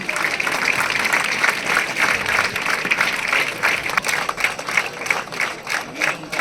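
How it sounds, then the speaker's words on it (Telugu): An audience at a children's event applauds steadily for several seconds, a dense wash of many hands clapping at moderate distance, with faint voices mixed in. "అందరు క్లాప్స్ కొట్టండి."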